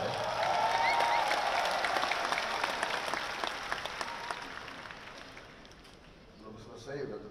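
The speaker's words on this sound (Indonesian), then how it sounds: "belum selesai udah tepuk tangan" Party cadres at a Gerindra national leadership meeting break into loud applause, with some cheering. The clapping starts strong, then slowly fades and thins out toward the end.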